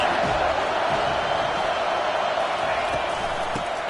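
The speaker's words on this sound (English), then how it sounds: "Decibels rising as the crowd gets behind this defense on 3rd down." A football stadium crowd roars on third down at a Purdue game, a dense, sustained wall of noise that stays loud and washes out everything else.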